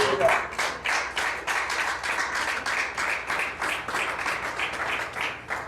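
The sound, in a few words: congregation applause in church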